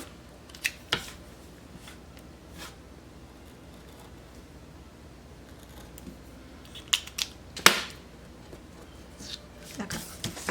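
Scissors cut paper in a planner, with scattered close snips and light paper rustling separated by quieter gaps.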